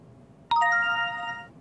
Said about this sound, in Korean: 유한타증권의 송태현 과장 전화로 만나보겠습니다